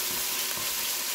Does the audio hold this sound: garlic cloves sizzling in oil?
yes